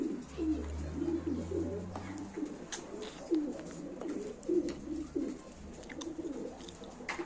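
Female pigeons at a live pigeon auction coo in soft, repeated rolling calls, several birds overlapping at moderate distance over a low hum, with no talking.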